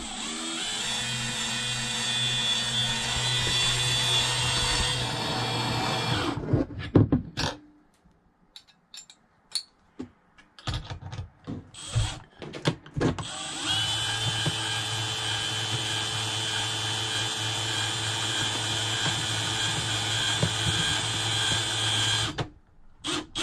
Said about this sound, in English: this is a super long drill bit